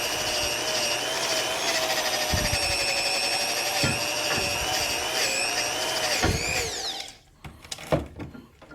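Harbor Freight wire wheel spinning on a power tool during parts prep, a loud high whine with scraping bursts and several sharp knocks, then winding down and stopping near the end, followed by clatter.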